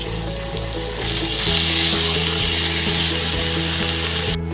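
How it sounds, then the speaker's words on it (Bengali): Spiny gourd (kakrol) frying in a pan with onions that were already browned: a loud, steady, close sizzle with a low, constant hum underneath and no talking. "এবারে আমি দিয়ে দেবো এখানে কাঁকরোলটাকে।"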